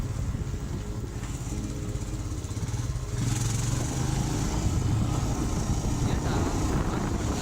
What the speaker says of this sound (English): I ride this bike on all stones.